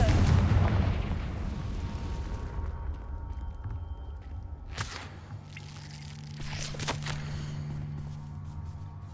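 Confringo spell blasts in the video game Hogwarts Legacy, a heavy booming burst at the start that fades, followed by two sharper cracking impacts later.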